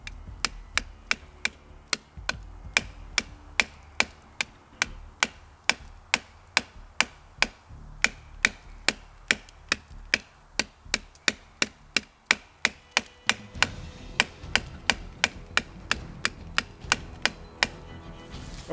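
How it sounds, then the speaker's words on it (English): A compact micro red dot sight, the Aimwin PN330, is smacked against a tree trunk like a hammer, giving a long, steady series of roughly forty sharp, evenly spaced knocks outdoors. "This is where we use the red dot, essentially like a hammer, smacking against a tree about 10 or 20 times or so."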